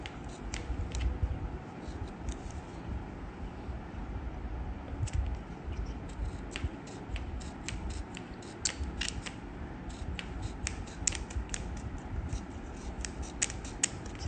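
Scissors snipping through paper while cutting out paper flowers, a steady run of quick, crisp close-up snips over a soft background hum.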